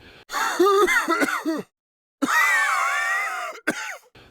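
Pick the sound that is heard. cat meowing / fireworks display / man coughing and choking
man coughing and choking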